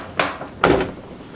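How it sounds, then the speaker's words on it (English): A car door on a 2003 GMC Envoy swung and shut, two quick close thuds a fraction of a second apart, the second heavier. "you have to shut the door"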